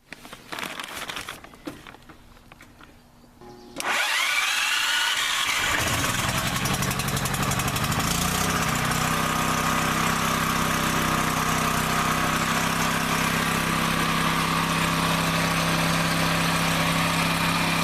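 A gas generator engine cranks with a few quiet starting attempts, then catches around four seconds in and settles into a loud, steady running drone that holds unbroken to the end.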